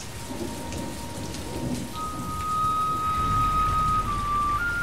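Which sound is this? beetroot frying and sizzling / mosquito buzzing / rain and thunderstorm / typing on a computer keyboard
rain and thunderstorm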